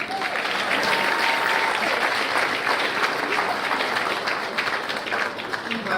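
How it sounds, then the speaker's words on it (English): Audience applause at an awards evening as an honoree is welcomed: dense, continuous clapping from a large crowd, loud and steady for the whole stretch. "Please put your hands together for Jeff Ballou."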